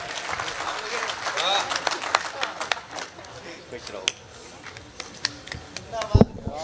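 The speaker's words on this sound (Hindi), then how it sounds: "जोरदार तालियां बजा दीजिए।" A crowd at a Hindi comedy poetry gathering claps in scattered, uneven bursts, light and patchy rather than a full roar, while a voice talks over the audience throughout.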